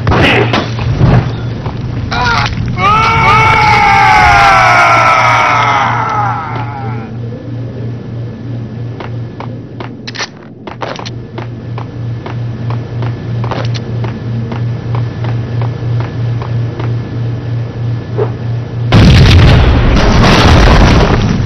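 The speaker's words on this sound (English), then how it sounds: "I thought it was a bomb for sure." A single loud boom like a bomb explosion, followed by lingering rumble, car noise and a steady pulsing hum, with another loud burst of noise near the end.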